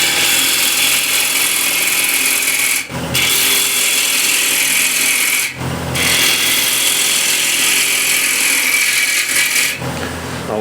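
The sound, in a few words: ball gouge cutting walnut or cherry wood plate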